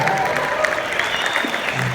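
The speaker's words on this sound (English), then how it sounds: "let's give Kevin Muzzle a round of applause" Audience applause for Kevin Muzzle, a steady wash of clapping at moderate level throughout, with a faint voice threading through it.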